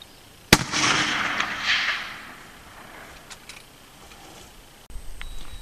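Howa 1500 rifle in .30-06 firing a 165-grain spire point boat tail at a 350-yard target, one sharp loud crack followed by a rolling echo that fades over several seconds.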